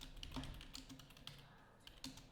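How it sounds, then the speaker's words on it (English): Quiet, irregular tapping of fingers on a computer keyboard, a quick run of light clicks followed by scattered keystrokes, with no speech. "I'm making notes as I'm typing out."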